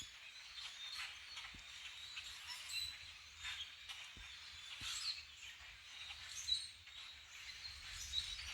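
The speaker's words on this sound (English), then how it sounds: "There's a huge flock of blackbirds of some kind" A huge flock of blackbirds calls across a forest on a fall camping and hiking trip, many faint, scattered chirps and twitters blending into a steady distant chatter with a few sharper notes.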